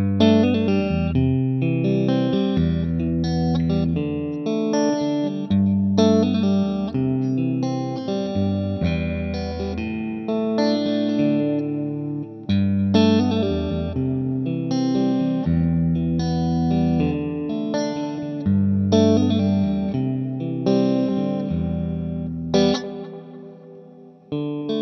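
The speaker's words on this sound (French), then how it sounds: "un petit riff et je t'active la Reverb puis la Utopia" An electric guitar plays a repeating riff through reverb and Utopia pedals, lush and spacious, sustained and moderately loud throughout with no talking.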